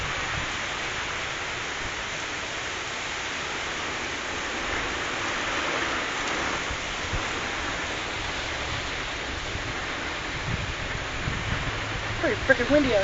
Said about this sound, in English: And the rain's coming.